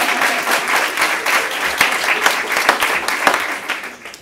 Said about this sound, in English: let's clap for the clappers.